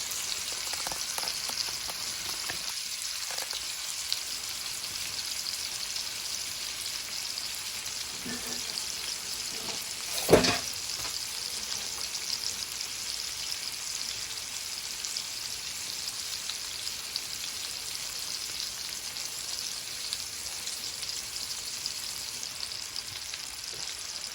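Food searing in a hot pan for a surf and turf dinner, a steady broadband sizzle running throughout with a few brief clanks and one sharp knock near the middle, no voices.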